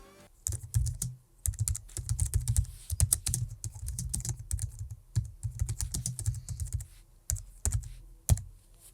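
Fast, steady typing on a Keychron K3 Low Profile keyboard with optical switches, crisp clustered key clicks with brief pauses, close and alone.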